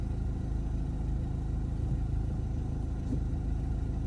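A car pulls away in first gear during a driving lesson in France, its engine giving a low, steady rumble from inside the cabin, fairly quiet and even throughout.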